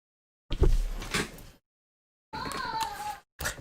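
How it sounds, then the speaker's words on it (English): A door is pushed shut in a single quick, solid thump with a brief rattle, followed by quiet and then a stretch of muffled indoor background noise. "Had to shut the door real quick"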